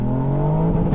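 A tuned Revo Stage 2 Ford Fiesta ST spins its wheels in first gear, a strained high engine drone with tire whir held steady and close for a short moment.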